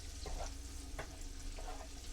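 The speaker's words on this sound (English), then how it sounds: "we're going to cook these onions for a few minutes" Onions fry in a pan with a soft, steady sizzle, broken by a few faint stirring scrapes.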